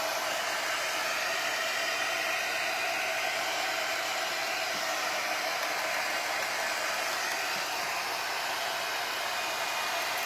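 A hair dryer blows steadily on a resin beach tray in which water has been added, a continuous close airy whoosh that holds even for the whole stretch with no talking.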